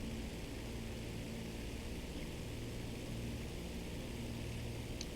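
Ju-87 D-3 Stuka in the War Thunder video game, its propeller engine droning steadily at a faint, even level with no breaks.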